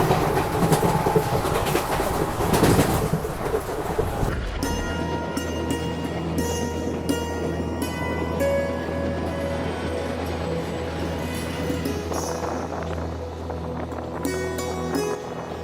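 ICF train coaches of the Ahmedabad–Somnath intercity express run at about 100 km/h, heard from inside as a continuous loud rolling roar with rhythmic wheel clacks and rattles that grows rougher after the first few seconds.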